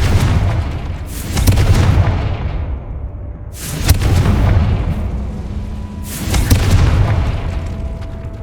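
Confringo fire spell explosions in the video game Hogwarts Legacy, three loud booming blasts at steady intervals, each with a sharp crack that rolls into a long rumbling decay.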